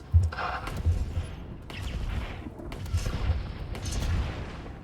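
Several heavy booming tank cannon shots fire in a row in the game World of Tanks, loud and close, each followed by a rumbling echo amid game battle noise.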